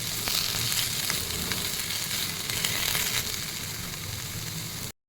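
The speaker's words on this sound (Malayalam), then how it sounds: "അതിനായിട്ട് പൊട്ടറ്റോ ഉപ്പിട്ട് ഫ്രൈ ചെയ്തെടുക്കുവാണ്" Potatoes frying with salt in a pan for egg biryani, a steady, dense sizzle that holds at even loudness for about five seconds, with faint scraping from stirring, then stops abruptly.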